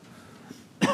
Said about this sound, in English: Now we got contagious coughs now.